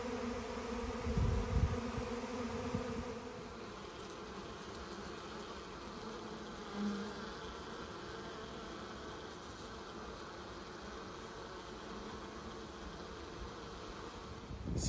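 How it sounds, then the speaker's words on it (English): A honeybee colony swarms around a wooden hive box used to catch swarms, producing a steady, dense buzzing drone that holds evenly throughout, with a slightly louder swell near the start. "these bees seems to be attracted to the box"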